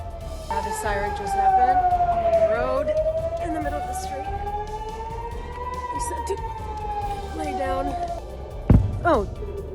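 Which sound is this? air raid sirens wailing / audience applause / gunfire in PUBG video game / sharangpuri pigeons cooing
air raid sirens wailing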